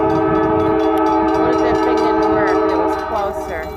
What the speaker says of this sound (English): That person wasn't even aware there was a train there.